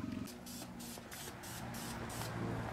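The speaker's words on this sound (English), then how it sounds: "Make sure your surfaces are dry before you spray paint them." Repeated short bursts of hissing aerosol spray paint on car wheels in a steady rhythm, with a faint low hum and murmur underneath.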